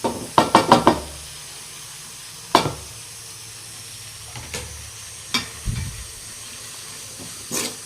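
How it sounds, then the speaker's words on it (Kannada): Cut tomatoes tipped into a hot pan, a burst of clattering knocks followed by a brief sizzle, then sparse scattered taps and hisses from stirring, close by with no voices. "ಈಗ ಇದಕ್ಕೆ ಇದು ಟೊಮೊಟೊ ಹಾಕ್ತೀನಿ ನೋಡಿರಿ"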